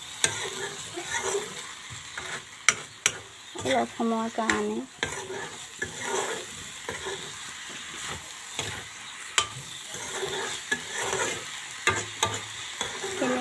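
Rice and dal stir-fried in a pan, a close sizzle under repeated sharp scrapes and knocks of a spoon against the pan, with a brief spoken phrase in the middle.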